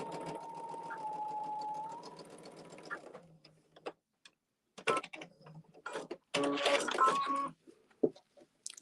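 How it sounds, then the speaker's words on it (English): A home sewing machine stitches quilt blocks, starting with a steady whirring run of about two seconds, then stopping and going in short, uneven bursts of stitching separated by pauses, fairly close and moderately loud. "I'll just go ahead and sew over that again."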